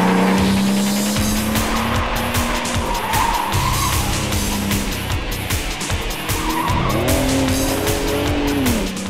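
A Bentley all-wheel-drive supercar races hard through a dusty left-hand corner, its engine revving and shifting loudly up close while the tires squeal and skid continuously.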